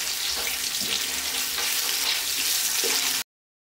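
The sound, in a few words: green chillies, cashews and curry leaves frying in ghee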